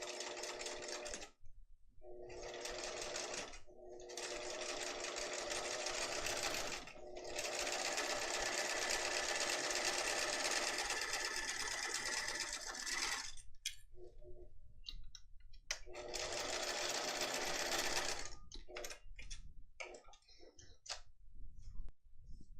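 A sewing machine stitches a vinyl zipper case in several loud, close bursts of rapid ticking, stopping and restarting with short pauses between runs.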